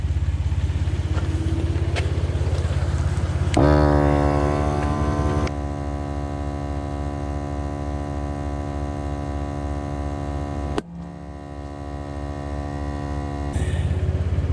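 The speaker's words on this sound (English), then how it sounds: "So we're gonna see if this little compressor will do the trick." Small inexpensive air compressor setting the bead on a 40-inch tire, a steady loud mechanical hum droning for several seconds, with a sharp pop-like break partway through before the motor carries on.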